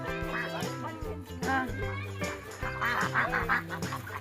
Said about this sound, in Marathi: हे बघा इथे बदक आहे